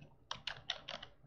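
Keys clack on a computer keyboard as a command is typed, five quick distinct keystrokes in an uneven rhythm, close and clear with no talk.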